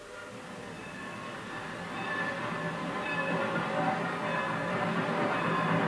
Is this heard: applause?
no